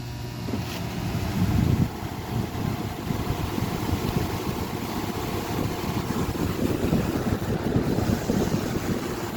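A Galaxy Wind Machine model 3521 fan runs on high, giving a loud, steady rush of moving air with a dense, fluttering rattle underneath throughout.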